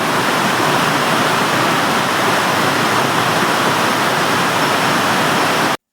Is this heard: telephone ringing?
no